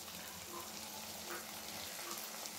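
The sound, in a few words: frying drumstick leaves with toor dal in oil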